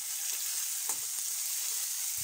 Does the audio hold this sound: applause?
no